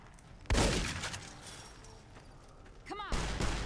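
A single gunshot fired in the video game Fallout: New Vegas for a headshot, a sharp burst followed by game sounds and a short ringing chirp, over a continuous background.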